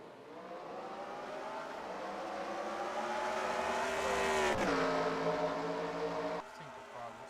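Race cars roar past at Red Bull Ring, a steady loud engine drone with rising pitch as they accelerate, then a sudden shift as one passes close, alongside faint commentary.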